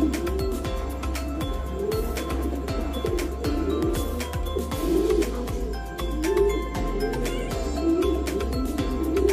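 Racing pigeons at a loft cooing in low, rolling throaty calls, several birds overlapping continuously, with flapping and scratching noises and a steady background hum, close and fairly loud.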